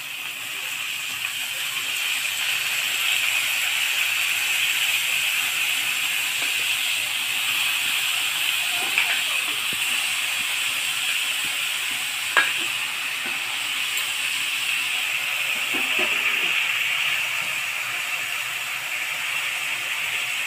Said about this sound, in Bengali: এখন আমি থোড় ভালো করে কেটে ধুয়ে রেখেছিলাম সেগুলা দিয়ে দিব